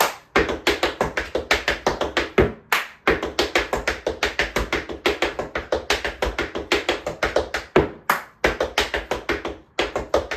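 Rapid tap shoe taps in a steady rolling riffle rhythm, crisp and close, with brief pauses between phrases and no voices.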